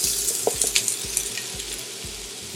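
Peppers and garlic sizzling in heated olive oil in a pan, a steady close crackle with small pops and stirring scrapes throughout, no voices.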